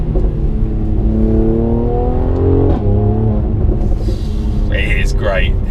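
A 2018 Mercedes-AMG C43 Coupe 4Matic, driven in manual mode in Sport Plus, revs up under acceleration, heard loud from inside. The engine note climbs and dips briefly at a gear change. A voice is heard over the engine toward the end.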